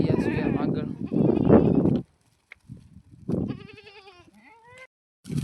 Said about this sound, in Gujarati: આ છે આપણા બકરા